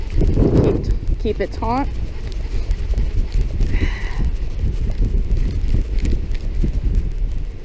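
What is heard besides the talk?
extreme wind on a bridge while fishing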